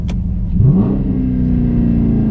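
A nearby Dodge Challenger R/T engine revs up and accelerates while driving, its pitch climbing into a steady, loud drone, with a short click at the start.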